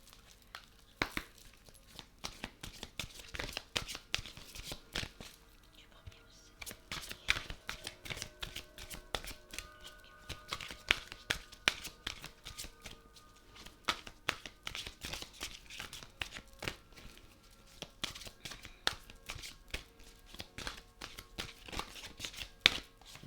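Tarot cards being shuffled by hand, a steady run of soft riffling and slapping card sounds, close and fairly quiet, continuing throughout with no talking.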